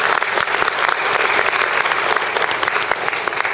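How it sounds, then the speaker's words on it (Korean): A congregation at a Won Buddhist gathering applauds, dense rapid clapping from many hands, loud and close, sustained evenly from start to finish. "원무님들께 큰 박수 한번 부탁드리겠습니다."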